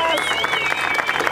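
Audience applause at a freestyle rap battle final, a brief burst of clapping from the crowd heard under a loud host voice and a whistling tone.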